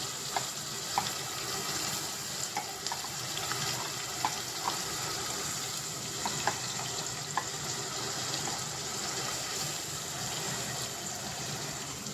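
Onion paste frying in oil for a country chicken curry gives a continuous bubbling sizzle, with scattered small pops and light clicks of stirring throughout.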